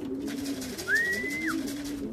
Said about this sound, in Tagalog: may isa pa tayong ibon